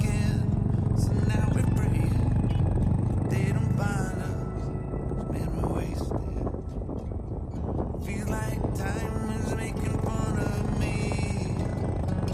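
A motorcycle hums steadily on a Himalayan mountain ride from Ghatasani to Barot, with wind and a voice talking over the continuous engine drone throughout.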